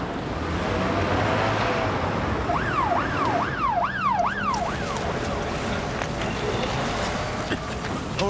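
An ambulance siren wails in a rising and falling pattern for a few seconds over constant road and engine rumble, mid-distance, with voices talking alongside.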